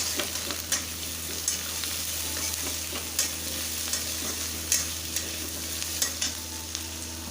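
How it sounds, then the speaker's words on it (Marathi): Crushed ginger, garlic and slit green chillies fry in hot oil with a steady close sizzle, punctuated by regular sharp clinks and scrapes of a spoon stirring the pan; no talking. "हिरव्या मिरच्या दोन मधला चिरलेल्या आहेत त्या घालते ते भाजून घेऊया"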